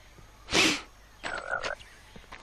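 Frogs croaking in a Harry Potter video game, a short burst of game sound followed by a clear warbling croak of about half a second, moderately loud with no talk.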